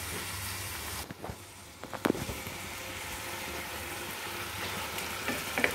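Rice and lentils fry with spices in a pan under a soft, steady sizzle, broken by a few clinks and scrapes of stirring near the middle, with no voices.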